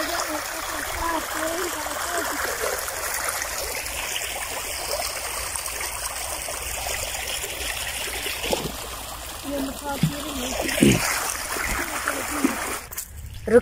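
Water from a village tubewell gushes into a field channel beside a wheat field in Pakistan, a steady close splashing stream with some faint voices late on.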